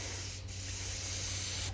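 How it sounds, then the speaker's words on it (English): Close, steady airbrush spray hiss of Gaahleri Kaleido acrylic paint driven by a compressor at 20 psi, running continuously for a couple of seconds with a brief dip near the start. "Okay, so let's get started with spraying."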